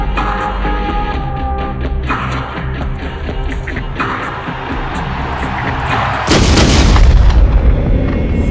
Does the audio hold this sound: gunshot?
yes